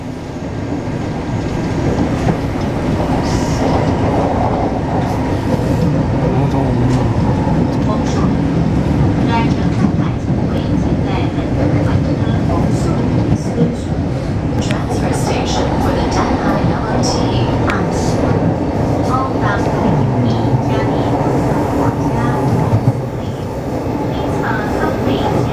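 A Taipei Metro 381-type train with refurbished interior runs from Tamsui to Beitou, its loud, steady rumble and rail clatter filling the car, with voices heard over the noise.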